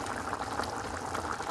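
Meat and vegetable gravy with tomato sauce simmering in a covered pot, giving a steady close bubbling hiss with soft irregular pops throughout, no voices.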